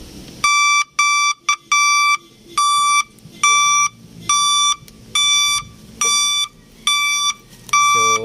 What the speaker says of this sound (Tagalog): Kaya mas maganda pa rin po yung mayroon pa siyang back horn.